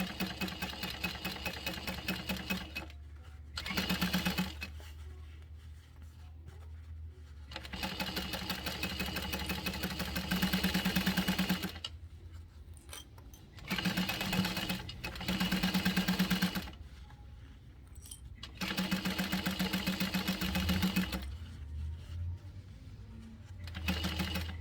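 A sewing machine runs a 3/8 inch seam in several long bursts of rapid, steady whirring and needle clatter, broken by short quiet pauses between runs, close and fairly loud.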